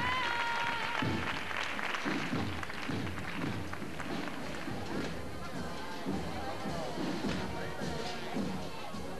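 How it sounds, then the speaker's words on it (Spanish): A crowd in Cádiz applauds and cheers loudly as a Holy Week procession float of the Virgin is carried out into the street, with sustained clapping, rhythmic thuds and a noisy mass of voices throughout. "una gran ovación recibe a la señora"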